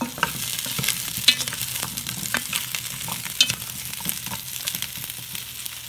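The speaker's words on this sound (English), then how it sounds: "Again, we're coming back to stir." Meatballs sizzle and fry in a pan while being stirred, with steady crackling and repeated scraping strokes of a utensil, close and loud with no talking.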